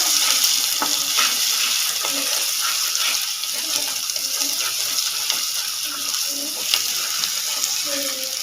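Eggplant bharta mixture with ginger is stirred in a hot pan, giving a steady soft sizzle with repeated scraping strokes of the spoon throughout.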